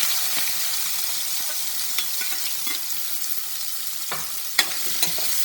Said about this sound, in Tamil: பொரிய ஆரம்பித்தோடனே அந்த இடத்துல கண்ணு நேராக வச்சு கிட்டக்க போகக்கூடாது கொஞ்சம் தள்ளி வரணும்